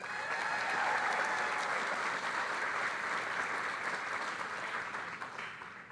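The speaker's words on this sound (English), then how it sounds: "let's give them a round of applause" A crowd at a community event welcoming Kamala Harris in Indian Country applauds steadily, a moderately distant, continuous patter of many hands that eases slightly near the end.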